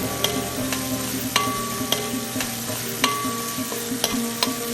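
Kerala duck curry stirred in a pan, with a continuous close sizzle and regular scraping knocks of the spoon against the metal every half second or so.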